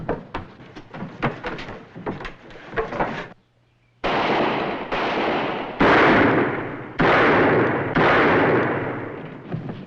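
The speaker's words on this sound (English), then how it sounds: "Mr. Buntline, here's where I use your gun." Gunfire in a western drama: a rapid burst of sharp shots, then a brief silence, followed by several loud, heavy blasts spaced about a second apart, each one ringing out and decaying.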